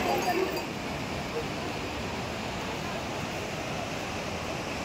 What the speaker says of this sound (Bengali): ঝর্ণাটা কত সুন্দর বইছে, আওয়াজটা শুধু শোনো